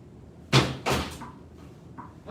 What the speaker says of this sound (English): Let's see if I can knock these down right now.